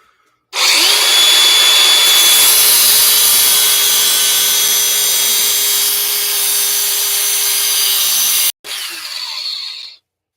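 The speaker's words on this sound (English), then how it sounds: "now we're gonna grind this threaded rod off" A power grinder cuts through a steel threaded rod during assembly of a 74 V 20s4p lithium battery pack, a loud, steady high-pitched whine held for about eight seconds before a brief break and a short final burst.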